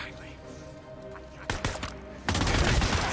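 Gunfire in the Days Gone game: a scattered burst of sharp shots, then a louder dense volley near the end, with speech-like sounds mixed in.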